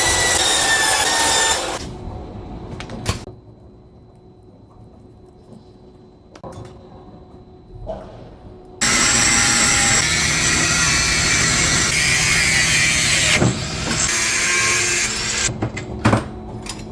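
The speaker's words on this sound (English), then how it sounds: "I decided to cut out the parts of the robot that was part of my final project" Loud power-tool cutting through welded metal robot parts in a home workshop, coming in long, harsh bursts that stop and start, with quieter pauses in between and a final stretch of rough grinding.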